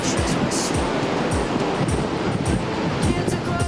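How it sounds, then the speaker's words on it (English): Ocean surf rolls onto Benaulim beach in Goa, a steady wash of waves heavily mixed with gusting wind buffeting the microphone in low, repeated thumps. "we are at the Benolim beach"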